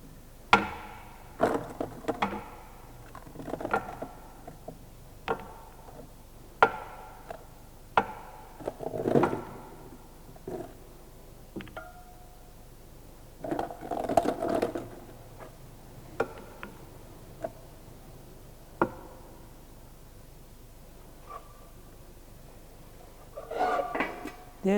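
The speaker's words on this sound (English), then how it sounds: "Then we are going to take the sample from our Los Angeles abrasion machine." An aggregate sample is emptied from a Los Angeles abrasion machine, giving scattered clinks, knocks and rattles of stones against a steel drum and tray, close by and irregular, with quiet pauses between bursts.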